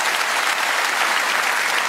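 A theatre audience at a comedy show in the Casino de Paris claps continuously, a loud, dense, even wave of applause with no pauses.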